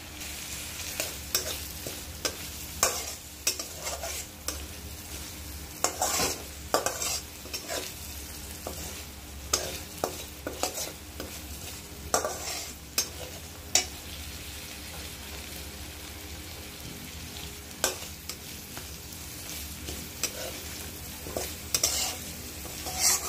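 Eggplant and potato with chili powder fry and get stirred in a pan, a steady sizzle broken by frequent scraping stirs and utensil clinks, close and moderately loud, no talking.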